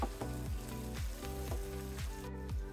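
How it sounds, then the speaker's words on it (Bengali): Whole garam masala spices, including mace, bay leaf, cinnamon, cardamom and black cardamom, sizzle with beef in a pan, a steady quiet fry under a humming tone with faint stirring noises. "গরম মশলা দিয়ে আরো 1 মিনিটের মতো আমি ভেজে নেব।"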